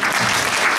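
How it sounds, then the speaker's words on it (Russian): Dense, even clapping from a forum audience fills a short burst, a continuous wash of many hands close and loud. "но мы все равно видим и хлопаем"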